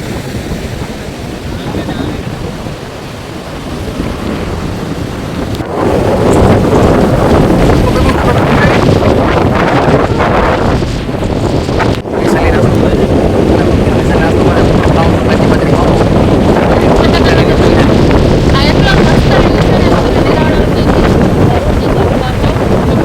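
Sea waves wash onto a beach under strong wind buffeting the microphone, a loud, continuous roar of surf that swells after the first few seconds and stays dense throughout.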